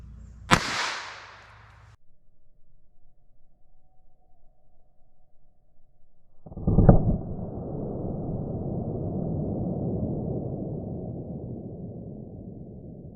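Two sharp reports from a Beretta Bobcat pistol firing Aguila .22 LR subsonic rounds, one early and one later, the second trailed by a long, steady broadband rush of background noise.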